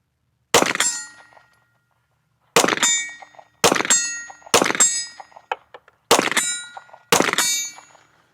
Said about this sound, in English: We're gonna go ahead and shoot some of the steel. So keep your ears peeled for the ringing.